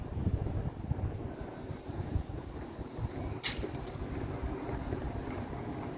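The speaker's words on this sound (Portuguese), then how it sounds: "Eu posso ouvir o vento que passou agora, que tá batendo agora." Wind gusting outdoors on a street, a steady low rushing roar with microphone buffeting throughout and a brief sharper gust near the middle.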